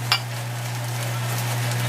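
Ingredients for a traditional Mexican pinchi mole sauce fry in a pan, a soft continuous sizzle with a brief stirring clatter at the start.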